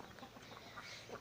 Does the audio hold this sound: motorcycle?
no